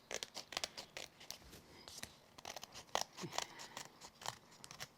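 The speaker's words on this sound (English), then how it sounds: "just keep your scissors angled so you don't cut into your frame" Scissors cut through a double layer of cardstock while a winter card is trimmed, giving a run of quiet, crisp snips and crunches with short pauses and no talking.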